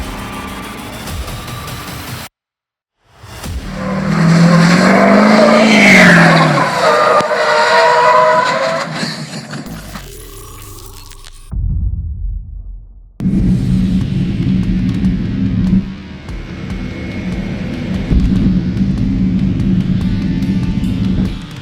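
Diesel trucks rolling coal at an off-road event, engines roaring loud and close through several bursts of revving and acceleration, broken by brief drops and a sudden quiet gap before the roar returns.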